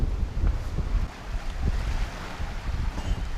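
Small waves lap against stones on a beach on Koh Lipe, Thailand, in a soft, irregular wash with low rumbling gusts of wind noise, close and continuous.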